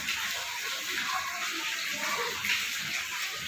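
High-tide seawater flows into a house with a steady, close rushing and splashing of water, continuous and fairly loud throughout, with no talking.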